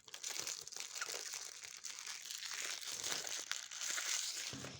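Plastic packaging crinkles and crunches up close while a Gan 11 M speed cube is unboxed, a continuous run of crackling rustles with small uneven bursts and no voices.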